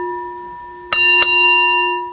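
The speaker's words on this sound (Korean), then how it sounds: "그럼 종소리는 종소리인데 달라요." A bell is struck twice during a Buddhist dharma talk, two clear metallic strikes a fraction of a second apart over a steady sustained ringing tone that slowly fades, with no talking.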